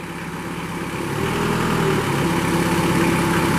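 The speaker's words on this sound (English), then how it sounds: "Hear that Kubota come to life." Kubota diesel engine on a Moffett M5500 truck-mounted piggyback forklift starts up and settles into a steady, loud low-pitched idle with a constant rumble and no talking.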